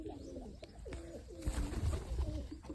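Kept pigeons coo softly and repeatedly in low, rolling phrases, with a few nearby rustles and a slightly louder stretch of calling toward the end.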